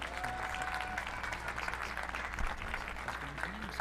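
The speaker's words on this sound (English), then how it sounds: "Let's give them a big round of applause." A county fair audience at a heifer show applauds steadily and fairly loudly for several seconds, a dense wash of clapping from a crowd with a few voices mixed in.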